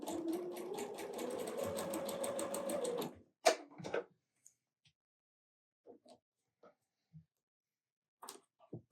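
A sewing machine stitching quilt pieces runs in a steady fast whir for about three seconds, then stops, followed by a few faint clicks and handling noises in a quiet room.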